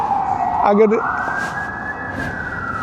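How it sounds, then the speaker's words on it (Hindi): An ambulance siren passing outside wails in a steady high tone throughout, audible behind a room and fairly prominent, with a brief burst of other noise near the start. "सॉरी एम्बुलेंस की नॉइज़ है"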